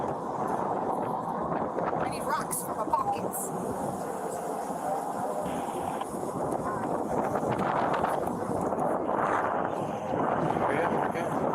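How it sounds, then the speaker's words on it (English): Wind gusting outdoors at a roadside police stop, a broad steady rush buffeting the microphone throughout while a person talks over it. "it's windy out here"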